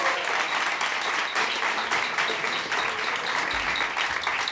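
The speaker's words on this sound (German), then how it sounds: "Natürlich nochmal unter euren tosenden Applaus." A studio audience at a German TV quiz show applauds in a dense, steady wash of clapping that holds at an even level throughout.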